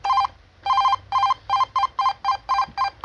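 An Audio brand intercom door phone rings after a button press, giving about nine short electronic tone bursts in quick, even succession, clear and close with no talk.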